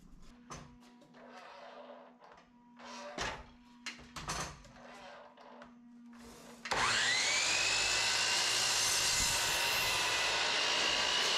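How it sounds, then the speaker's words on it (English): Circular saw cutting 2x4 lumber railings for a top bunk bed: quieter shop knocks and rustling, then the saw suddenly roars to a loud, steady, sustained whine through the rest. "So we're using these 2x4s for all the railings, and right now I'm just cutting the railings"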